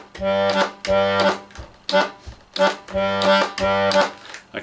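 An Irish accordion playing a left-hand bass pattern: rhythmic alternating bass notes and reedy chords in short bursts with brief gaps, close and clear, with no talk.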